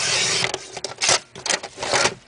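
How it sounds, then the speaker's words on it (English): Paper trimmer blade slicing through cardstock for a Halloween card, a series of short rasping, scraping strokes in bursts, close and fairly loud with no talking. "This is not my favorite trimmer. It always cuts things crooked."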